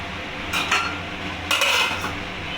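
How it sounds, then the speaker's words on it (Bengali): A metal lid clanks and scrapes onto a cooking pot in two short bursts over a quiet background hiss. The pot holds shrimp heads and Malabar spinach. "এবার আমি এটাকে ঢাকা দিয়ে ঢেকে রাখবো কিছুক্ষণের জন্য"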